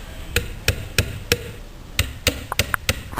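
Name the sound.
hammering wooden dowel into desk piece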